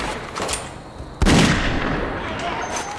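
Gunfire in a shooter video game, a single sharp loud shot that rings out and decays, preceded by faint scattered pops, with no talk over it.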